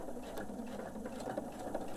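A sewing machine stitches a quilt block seam with a steady, soft mechanical whirring and rapid needle patter, faint and continuous throughout.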